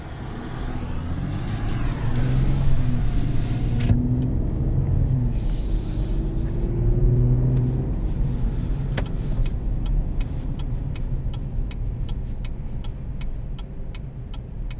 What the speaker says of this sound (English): Traffic is so fun.